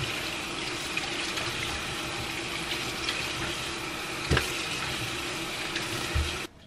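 Tap water runs steadily into a kitchen sink while fruit such as tangerines and bananas is washed, a continuous close splashing hiss with a few brief knocks and a clunk as it stops.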